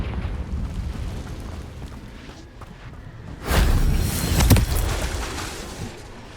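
A Confringo spell blast in Hogwarts Legacy, a sudden booming whoosh that swells after a quiet stretch, then crackles and fades over a couple of seconds.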